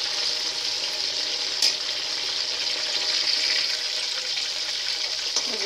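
Cauliflower florets frying in hot oil make a steady, close bubbling sizzle that stays even throughout, with a couple of brief clinks near the start and at the end.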